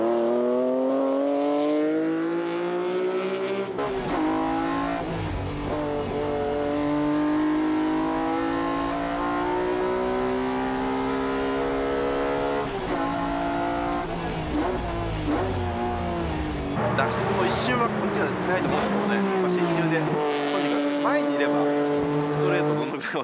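A carbon-bodied Honda NSX race car on a time attack lap at around 1,000 kilograms, its engine revving loud and near with rising and falling gear sweeps and brief lifts, a voice talking over it throughout.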